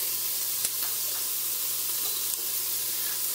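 Chopped onions fry in an Instant Pot with a steady, soft, even sizzle, a couple of faint clicks breaking through the continuous hiss.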